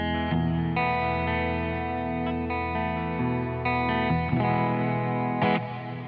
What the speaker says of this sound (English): this is actually the pitch algorithm, and it is a cathedral style reverb